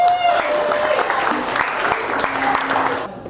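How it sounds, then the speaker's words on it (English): Applause rises from the audience at a Denver Founders startup event, a steady clapping wash lasting a few seconds with voices mixed in. "give them a round of applause"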